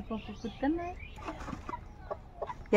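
Chickens cluck and call in a rural Sundarbans yard, short pitched squawks and clucks scattered over a few seconds, fairly close, with faint voices and background noise.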